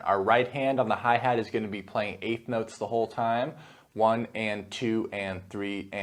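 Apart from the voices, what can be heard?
No distinct noise like a dog, phone or traffic.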